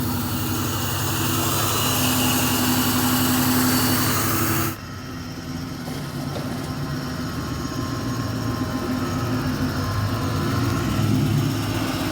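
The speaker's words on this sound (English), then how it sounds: "I think that's exhaust, dude." A supercharged BMW E39 M5 idles with a steady low exhaust rumble throughout, loud and close, with a brief shift in tone partway through before settling back into the same drone.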